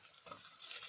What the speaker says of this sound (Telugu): ఆనియన్స్ ఈ మాత్రం ఎగితే చాలు.